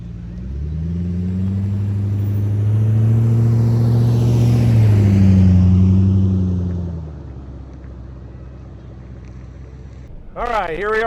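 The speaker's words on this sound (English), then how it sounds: "here we are out for a drive in the 2002 Jeep Grand Cherokee Overland" A 2002 Jeep Grand Cherokee Overland out on the road, a steady low engine and road rumble that swells and then eases off, heard from inside the cabin, with a brief voice starting at the end.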